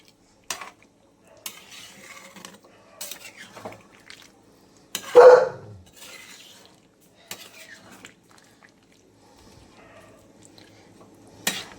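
Hot water poured into a pot of chicken curry with winter radish, a brief splashing pour in the middle amid scattered clinks and scrapes of a spoon against the pot, close and moderately loud.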